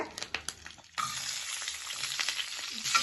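Chopped garlic and onion sautéing in a pan for a brinjal kara kulambu, a few clinks then a steady loud sizzle and frying hiss that continues to the end.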